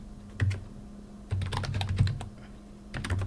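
Keys clack on a computer keyboard as a Linux Mint terminal command is typed, in three short clusters of quick, crisp taps separated by pauses, close and moderately loud over a low background hum.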